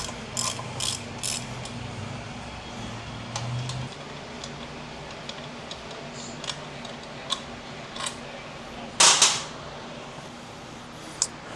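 A hand ratchet on a long extension with a 1/4 inch hex bit loosens the starter bolts on a 2011 Harley-Davidson Dyna Super Glide. Close, irregular runs of sharp pawl clicks sound with short pauses between them, and one louder, harsher burst comes near the end. No one speaks.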